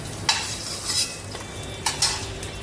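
Fried potatoes lifted out of hot oil in a pan, with a few close metal scrapes and clinks over a steady oil sizzle and no talk.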